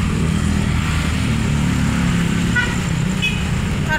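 Motorcycles ride along a dusty road, making a loud, continuous engine drone of nearby traffic with a few short horn toots.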